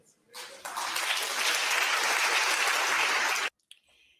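A news show audience breaks into clapping after a short lead-in, a loud, even wash of applause holding for about three seconds before stopping abruptly, followed by a faint stray sound.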